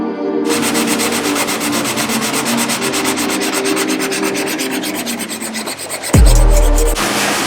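Body filler on a replica Nissan GT-R Nismo bumper is sanded by hand in steady, close, rasping strokes, ending with a sudden loud bump and short low clatter.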